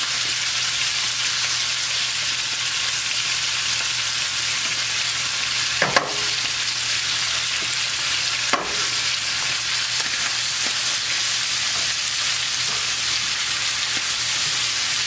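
Potatoes fry in a pan alongside eggs and onion, with a constant close sizzle and two brief clicks partway through.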